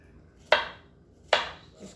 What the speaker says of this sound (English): I just kind of cut them like this because ever how you can get them in little cubes